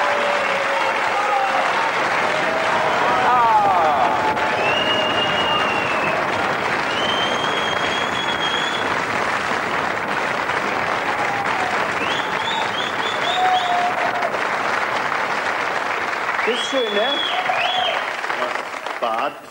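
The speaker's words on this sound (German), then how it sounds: "Beifall." A television studio audience on a 1988 German entertainment show breaks into long, sustained applause, dense and even throughout, with voices and faint cheers mixed in.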